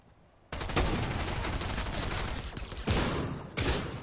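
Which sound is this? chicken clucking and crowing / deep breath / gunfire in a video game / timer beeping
gunfire in a video game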